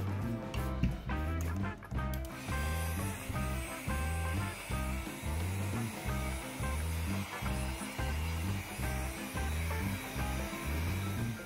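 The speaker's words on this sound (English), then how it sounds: "And now I will remove the varnish, but not with the acetone that I used in my previous videos," A heat gun blows a steady, loud hiss with a pulsing hum as it softens the nitrocellulose factory varnish on a Telecaster guitar body, running continuously throughout.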